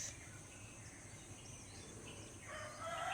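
A rooster crows faintly in the distance on an early morning, over a low outdoor hum and insect buzz, the call swelling near the end.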